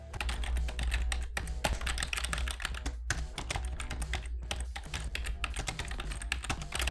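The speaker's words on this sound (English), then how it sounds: "Random keyboard typing." Steady, random typing on a computer keyboard, dense clattering keystrokes heard up close and continuous throughout, with no voices.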